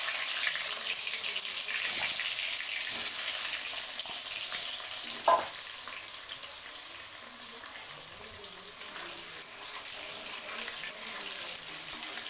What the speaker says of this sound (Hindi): अब मैं इसमें सारे परवल को फ्राई कर लूँगी।